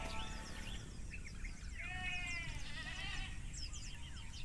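Goats bleating at a beach resort around dawn, several wavering calls overlapping in the middle of the clip over steady background noise, with faint birdsong in the distance.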